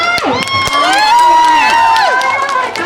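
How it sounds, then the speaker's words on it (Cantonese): A crowd at a Mid-Autumn Festival evening party in Mui Wo cheers and shouts just before a ping pong show, lively and loud with excited voices rising and falling over scattered clapping. "熱烈掌聲！"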